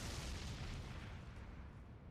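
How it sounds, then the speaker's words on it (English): A barrel blowing up in Elden Ring, heard as a sustained, heavy low rumbling boom with broad crackle that slowly tails off over about two seconds, fairly faint overall. "That's some hell of an explosion from a barrel."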